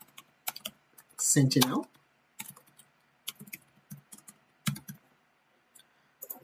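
Keys clack as a search term is typed into a search window on a computer keyboard, scattered clicks in short bursts, with a speaking voice heard briefly alongside.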